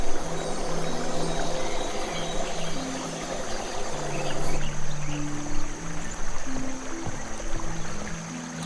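A brook in the Night of the Rabbit video game flows and gurgles in a steady, continuous wash of water, with soft background music tones over it and no talking.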